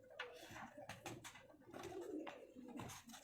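Pigeons coo in a rapid, throaty run of repeated calls at close range, including a prized bateri pigeon among a fancier's birds, with no speech.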